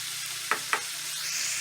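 Minced meat stew with tomatoes and tomato paste stirred in a pan, two short scraping strokes of the spoon over a steady, soft background hiss.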